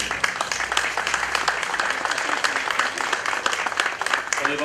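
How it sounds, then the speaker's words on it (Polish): A crowd applauds steadily for several seconds, dense clapping filling the space at a constant, fairly loud level. "Bardzo serdecznie i duże brawa"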